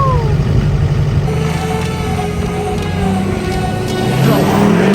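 A Duramax diesel pickup truck revs its engine up close, a steady low rumbling drone that builds toward the end, loud and with no voices over it.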